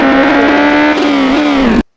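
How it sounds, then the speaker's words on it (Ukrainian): A motorcycle engine in a video game drones at a steady, buzzing pitch with a slight rise near the middle, close and loud for about two seconds before cutting off abruptly. "беру мотоцикл, щоб швидко добратися"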